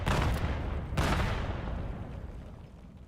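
Artillery and gunfire in the multiplayer shooter VAIL VR during a competitive match: two heavy booming blasts about a second apart, loud and close, then a long fading rumble.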